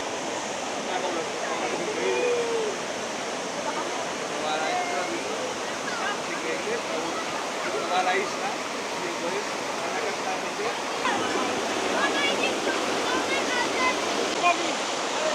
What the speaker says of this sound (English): show you a little bit more of the route down and these absolutely gorgeous waterfalls